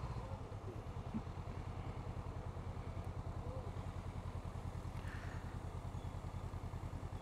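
A Honda CB 500X motorcycle engine idles with a steady low, throbbing putter, fairly faint and unchanging throughout.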